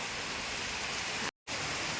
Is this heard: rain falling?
yes